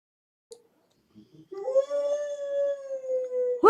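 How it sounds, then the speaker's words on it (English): A dog lets out one long, sustained howl that holds a steady pitch, close and clear, after a few faint short sounds in near silence. "Did you guys hear that? That was my dog."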